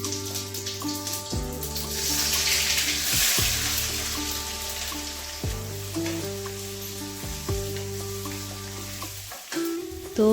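Okra and onion frying in a pan, a close, continuous sizzle with hissing and occasional stirring, while steady music plays over it and no one speaks.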